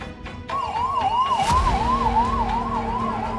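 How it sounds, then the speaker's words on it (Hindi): An ambulance siren wails with a steady up-and-down rhythm, loud and close, as it arrives outside a hospital during the Prayagraj Maha Kumbh crowd crush, with traffic rumble beneath. "यहाँ पर एक के बाद एक कई एम्बुलेंस पहुँच रही हैं"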